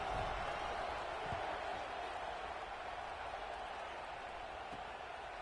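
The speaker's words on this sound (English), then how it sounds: "this crowd is buzzing after that last score" Steady, low crowd murmur from a football stadium crowd in a Madden video game, a faint continuous buzz with no distinct cheers.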